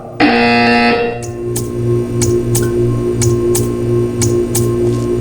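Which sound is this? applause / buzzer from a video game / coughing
buzzer from a video game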